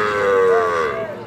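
A young calf at a cattle market gives one long, loud, close moo that wavers and falls in pitch.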